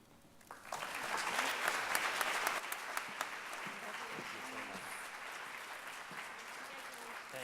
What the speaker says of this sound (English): Could we please have one more round of applause for them?